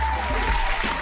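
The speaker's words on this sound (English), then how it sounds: "Y'all hear the claps?" Clapping from a group, heard steadily for about a second over a live call or stream connection, with a noisy, compressed quality and a faint steady tone running underneath.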